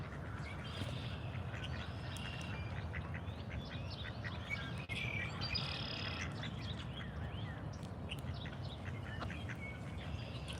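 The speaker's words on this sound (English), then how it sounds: "Hello, little duckies." Ducks quacking at a lakeside in Wyoming, a steady chorus of calls and chirps over a constant low background, moderately distant and fairly faint, with no talk.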